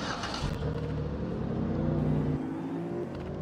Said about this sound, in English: This car is a Chevy Impala. Whoa. My, also known as my police car.